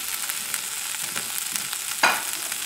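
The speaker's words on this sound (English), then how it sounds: "You have to cook the okra, whether it's the fresh or the frozen." Okra fries in oil in a pot with a steady, close sizzle and a brief louder stirring clatter near the end.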